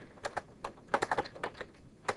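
Quick bursts of keystrokes on a computer keyboard while code is typed into C# Express, irregular clusters of close, crisp clicks with short pauses between them.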